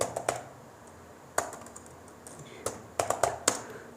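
Sparse clusters of computer keyboard keystrokes while typing a line of C code, clicking in short irregular bursts separated by pauses, fairly close and moderately quiet.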